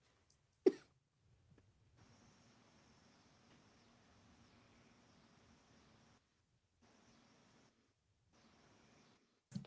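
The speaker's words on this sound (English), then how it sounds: "Sorry, I was coughing." A single sharp cough bursts out near the start, followed by near-silence and faint hiss, with another abrupt cough at the very end.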